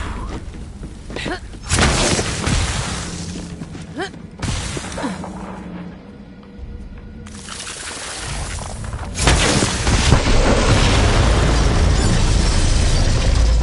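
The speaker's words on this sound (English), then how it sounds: "The explosion echoed through the forest" Bombs set off in Borderlands 3 erupt in a loud explosive burst, followed by another heavy blast and sustained roaring rumble and debris, all up close with no talking.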